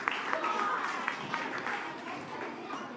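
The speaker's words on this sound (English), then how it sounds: "Big round of applause." A crowd claps after a dance performance at a British Columbia premier's daylight-time announcement, fairly faint and distant, with crowd noise under it.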